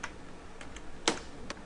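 A few quiet, separate keystrokes on a computer keyboard, including one sharper press near the middle, over a faint room hiss.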